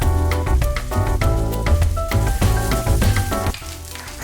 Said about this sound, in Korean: 살짝 익을 때까지 볶아주고요